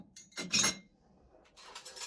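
Small dishes and utensils clink against each other as they are set into a dishwasher rack, in a couple of short, faint bursts of close metallic and ceramic clatter separated by near silence.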